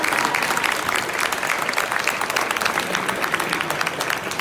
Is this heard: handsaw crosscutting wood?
no